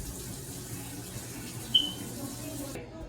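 Tap water runs steadily into a sink as tomatoes are rinsed, a soft, continuous splashing flow with a small clink partway through before the water cuts off near the end.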